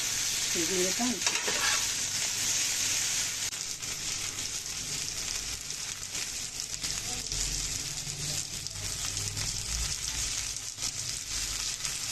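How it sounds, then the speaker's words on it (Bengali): Drumstick (sajna) stalks fry in oil in a pan, giving a dense continuous sizzle, with stirring scrapes and a brief clatter near the start and a low rumble below. "সজনে ডাটা উঠছে ভাজা ভাজা হয়ে গেছে"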